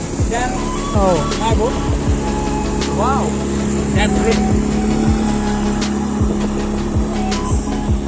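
A small motor boat carries people on a ride across a lake at Bird Valley in Pimpri-Chinchwad, Pune. Its steady engine hum and water noise run throughout, with people talking over it and faint birdlike chirps.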